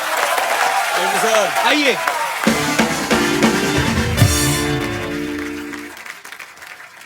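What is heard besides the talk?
studio audience applause on a comedy show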